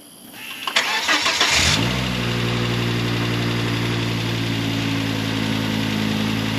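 A 2006 Volvo XC70 cranks briefly after an oil change, then catches and settles into a steady, even idle, loud and close, with no other sound over it.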